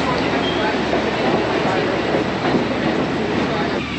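A Long Island Rail Road train arrives at a platform in New York, giving a loud, continuous rumble and rolling rail noise that fills the whole stretch, with faint wheel clatter underneath.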